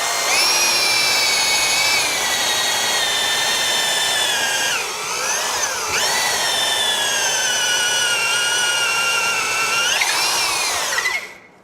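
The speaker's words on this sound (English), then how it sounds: "I'm just going to drill straight through and see what happens." A power drill whines steadily at high speed while boring through material, the pitch dipping briefly under load a few times before it stops.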